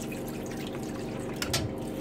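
Water draining and dripping from freshly washed minced meat, a steady wet trickle with a brief louder splash near the end, close by and without talk.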